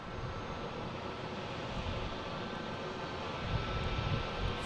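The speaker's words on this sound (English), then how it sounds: "All right, the JetBlue getting ready to go to Denver." A JetBlue Airbus A220 jet airliner at Boston Logan airport gives off a faint, distant, steady engine roar with broadband rumble throughout.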